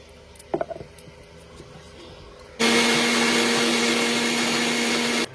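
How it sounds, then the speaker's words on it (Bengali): Pointed gourd, garlic and green chillies ground with a little water in a kitchen mixer grinder: a few soft knocks, then a loud, steady whirring motor drone that runs for a couple of seconds and stops abruptly. "পটল, তারপর হচ্ছে রসুন আর কাঁচা লঙ্কা একটু জল দিয়ে মিক্সিতে পেস্ট করে নিচ্ছি"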